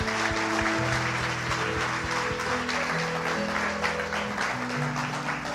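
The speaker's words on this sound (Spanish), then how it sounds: "Dele un fuerte aplauso al Señor." A church congregation applauds during a Spanish-language sermon, a continuous loud wash of clapping with sustained music tones beneath it.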